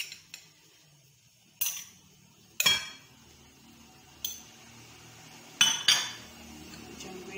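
Spoonfuls of grated beetroot going into a bowl of healthy bread mixture with raisins, heard as several sharp clinks of a spoon against the bowl spaced a second or so apart in a quiet kitchen.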